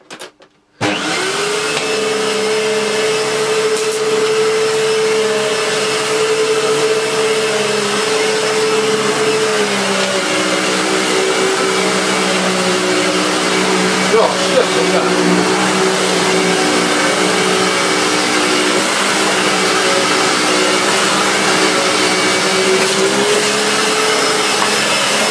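Hoover Purepower U3456 upright vacuum switches on and runs over deep-pile carpet, a loud constant whine and roar that shifts pitch slightly partway through as it settles, heard alone without talk.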